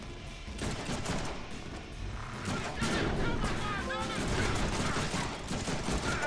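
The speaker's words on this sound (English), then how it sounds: "And the next is for shooting this photocopier in this office." Rapid gunfire aimed at an office photocopier in the Deadpool video game, dense bursts of shots over steady background game noise and chatter.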